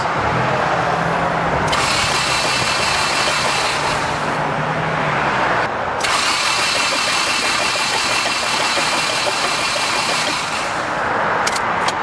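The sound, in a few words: flooded Honda Civic engine starting and idling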